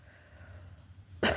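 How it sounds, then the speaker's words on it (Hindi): One sharp cough bursts out at the very end after near-silence, loud and close. "खांसी।"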